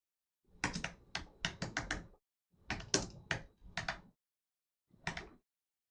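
Close bursts of typing on a computer keyboard, quick clustered key clicks in three short runs separated by silent pauses, with no voices.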